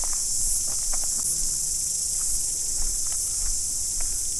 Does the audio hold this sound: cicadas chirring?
yes